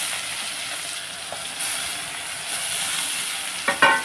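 Onions, green chillies and tomatoes frying in a pan for a milk-based curry, a steady hiss of sizzling oil throughout, ending with a few sharp scrapes and clinks of a spoon against the pan.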